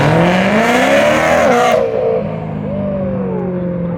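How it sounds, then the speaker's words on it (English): A Camaro at a street car meet takeover revving hard, with engine roar and squealing tires during a burnout, loud and close; the noise cuts off abruptly partway through, leaving a fading engine tone. "You finna burn out."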